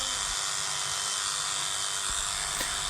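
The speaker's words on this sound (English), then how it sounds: "The weaver is putting the final touches on trimming or shearing the pile" The pile of an antique Kazak rug is sheared during a hand restoration, producing a steady, close buzzing drone that continues unbroken, with no voices.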